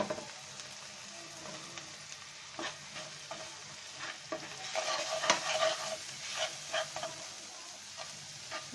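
Onion and cumin powder fry in hot oil while a spatula scrapes and stirs the pan, with a steady sizzle under irregular clacks and scrapes that grow busier midway through.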